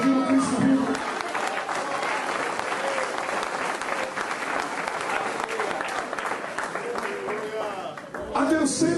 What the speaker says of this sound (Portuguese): Você pode aplaudir o Cristo vivo.